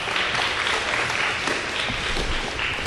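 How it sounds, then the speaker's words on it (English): At an eighth grade awards ceremony, an audience claps for an honoree, a full, even roar of applause from a large crowd sustained throughout. "Let's give him a round of applause."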